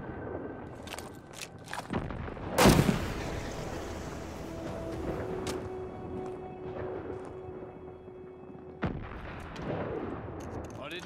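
Gunfire from a mounted machine gun in the Call of Duty Vanguard campaign: one loud, sharp blast stands out early, followed by scattered shots and a steady mechanical hum across a wartime battlefield.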